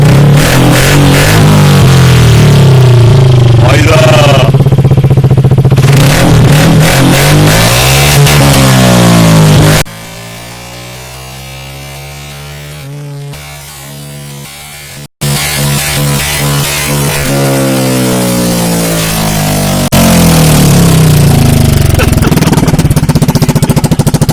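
A motorcycle fitted with an SC Project exhaust revs hard and close, engine notes sweeping up and down in repeated loud bursts, with a brief drop to idle midway before revving resumes.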